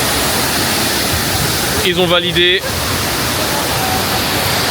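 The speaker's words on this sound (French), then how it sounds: "La troisième cascade, c'est fait." Waterfall on Lombok island, Indonesia, roaring as a loud, steady, broad wash of falling water close by, with a brief spoken remark heard partway through.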